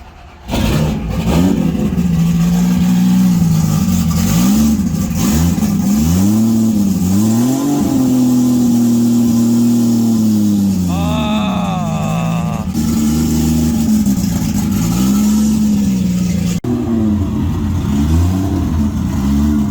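A car engine revs repeatedly up and down, loud and close, with rising and falling pitch sweeps and throaty exhaust tone continuing throughout.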